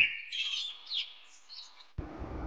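Small birds such as sparrows and mynas give faint, quick chirps and tweets in a short run of calls, followed by a soft noisy rustle.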